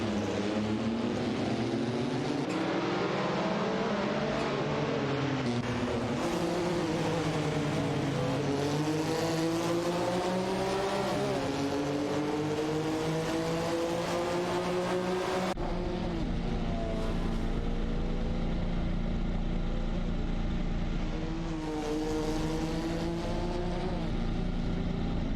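A tightly packed group of three race cars screams down the long straight, their engines droning loud and continuous with rising and falling pitch as they shift, then a steadier near roar, with no voices.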